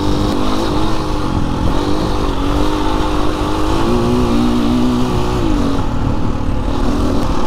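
BHR 300 R Enduro motocross bike ridden off-road, its engine giving a steady, loud, close drone with a slight rise and fall in pitch throughout, no talk.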